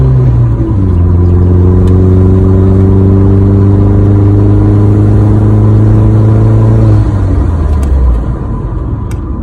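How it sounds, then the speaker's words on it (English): A car engine hums loud and steady as it accelerates to about 50, its pitch holding, then drops off abruptly under hard braking. "now I'm going to get up to 50, and then I'm going to do my aggressive brakes"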